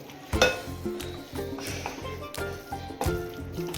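Carrot halwa with milk being stirred in a pan over low heat: a steady rhythmic scraping of the spoon with soft sizzling and wet squelching, close up, with a few sharper knocks against the pan.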